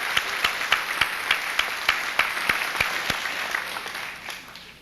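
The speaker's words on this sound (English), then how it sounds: "Let's give these people a nice round of applause." Audience applause at a high school senior assembly, with steady clapping from a large crowd heard up close, individual sharp claps standing out before it thins toward the end.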